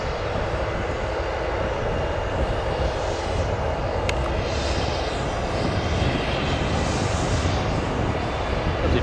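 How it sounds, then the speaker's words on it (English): A Flexport cargo airplane taxis onto runway 10 left at O'Hare Airport to depart, its engines giving a steady, loud, broadband roar that holds evenly throughout, with no talking. "Flexport now taxiing onto runway 10 left to depart."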